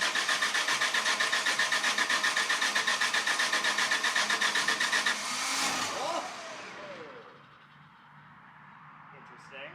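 An Onan 35EK propane generator engine cranking with a fast rhythmic chug, then catching and settling into a steadier, quieter running hum that fades lower toward the end.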